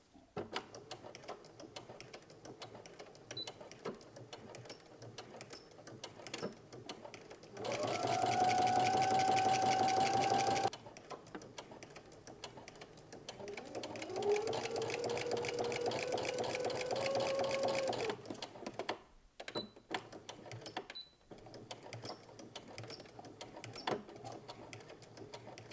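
A home sewing machine running a 2.5 mm straight stitch on a dress seam, two steady loud runs of whirring stitching separated by a short pause, with quieter handling noise around them and no talk.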